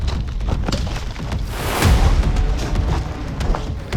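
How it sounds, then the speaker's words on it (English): An airsoft grenade detonates during an outdoor battle royale match, a single deep boom about halfway through that stands out over steady rustling and ambient noise. "It's a grenade."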